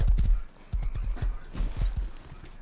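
Rapid hoofbeats clip-clopping in quick bursts, close and clear, with a short pause between runs of steps.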